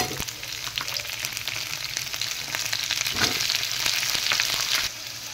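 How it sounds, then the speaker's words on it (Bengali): Chopped onions frying in hot oil for a Nepali potato and bamboo-shoot curry, a loud, dense sizzle with occasional stirring scrapes, close up and unbroken by speech. "এবার কেটে রাখা পেঁয়াজ দিয়ে দেব তেলের মধ্যে"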